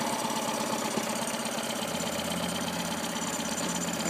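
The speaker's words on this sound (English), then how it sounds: "If I try to throttle up quickly, it just dies." A small engine in trouble, idling steadily with a mid-pitched, slightly knocking rumble that stalls and dies when throttled up quickly; the running sound stays loud and even throughout, with no talk.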